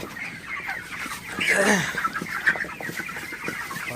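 Broiler chickens clucking in a poultry shed during hot, humid weather, several birds calling close by with one louder squawk in the middle over a busy flock murmur.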